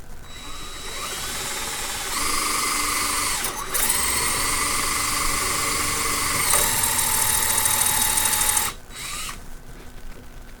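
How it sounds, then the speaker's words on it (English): A power drill whines steadily as it bores holes through a sand casting mold frame, its pitch shifting as the bit loads and frees up, with short breaks between passes; loud and close, with no talk. "I'm going to drill down in each hole until I get a good"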